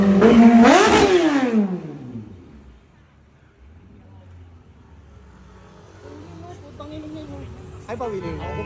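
A Kawasaki H2 SX motorcycle engine revs hard and loud right at the start, its pitch sweeping up and back down, then it settles into a quieter running murmur with voices in the background.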